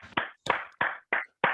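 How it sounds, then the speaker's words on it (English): Five separate hand claps in a slow, uneven rhythm, close and fairly crisp, each followed by a short silence, as on a call with only a few participants clapping. "take a quick moment to give that team a big round of applause"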